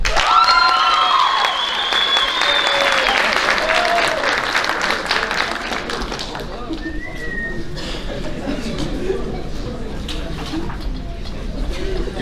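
Sustained audience applause for girls' athletes at the 2023 Muleshoe High School athletic banquet, with high whistles early on, lasting about twelve seconds and easing slightly toward the end.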